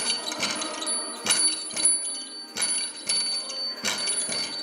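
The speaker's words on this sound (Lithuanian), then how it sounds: "Ir kada jį pasupi, suskamba varpelis." A small bell on a nativity cradle jingles as the cradle is rocked, rhythmic bright rings repeating about every half second, close and clear with no talk.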